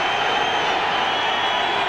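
Stadium crowd at a 1997 NFL game between the Baltimore Ravens and Cincinnati Bengals, a dense, steady roar of cheering filling the space without letting up.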